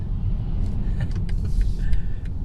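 A 2019 BMW 330i drives along: a steady low engine and road rumble fills the cabin, with faint light clicks and brief higher tones over it, and no talk.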